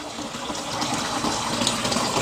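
Tap water runs through a hose to spin a small homemade mini hydro turbine generator, giving a steady, close, gushing rush of water with no pauses.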